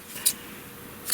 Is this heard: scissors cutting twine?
yes